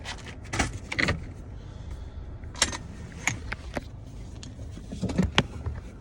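A car being put in park, with the whir of power windows and keys jangling: several close clicks and mechanical clunks, short motor hums and metallic jingles in bursts, no speech.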